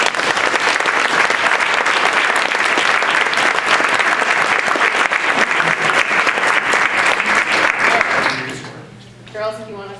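Loud, sustained applause from a board meeting audience for 7th grade girls, dense clapping for about eight seconds before fading out, with a voice starting to speak at the end.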